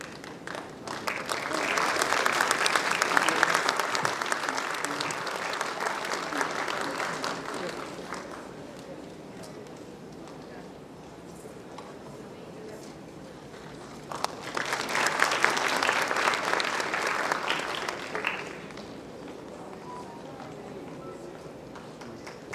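An audience at a medical institute's convocation ceremony breaks into applause twice, each burst of clapping lasting several seconds with a quieter murmur of the room between them.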